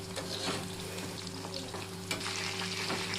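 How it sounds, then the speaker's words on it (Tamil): Soya chunks for soya 65 sizzle and crackle steadily while deep-frying in hot oil, a dense, continuous bubbling with occasional sharper pops and a low background hum, no voices. "இதே மாதிரி எல்லாத்தையும் பொரிச்சு எடுத்துக்கலாம்"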